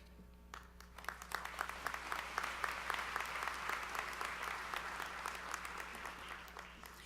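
Audience applause at a college spring commencement ceremony, a steady wash of many hands clapping that swells in after a moment of quiet and holds evenly, with a low hum underneath.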